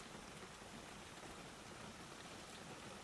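Rain falls on the glass of a greenhouse in a constant, gentle hiss of tapping drops, heard alone with no talking.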